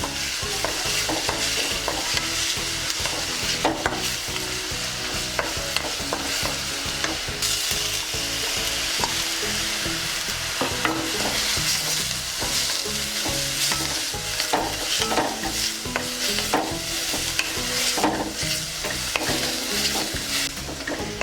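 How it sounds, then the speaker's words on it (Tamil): Onions sauté in a pan for cauliflower gravy, with a loud, continuous sizzle and frequent spatula stirring scrapes and clacks running throughout. "வெங்காயம் வந்து வதங்கிருச்சு."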